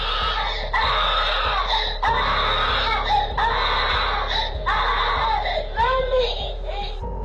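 A child screams and cries at 1 a.m., picked up by a neighbour's doorbell camera, with repeated anguished wails rising and breaking over a steady low electrical hum.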